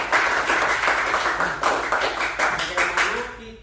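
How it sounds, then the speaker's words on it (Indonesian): A classroom group gives a short burst of clapping in a lesson setting, a dense patter of hands lasting a few seconds and fading out, with voices mixed in beneath it. "kasih tepuk tangan dulu"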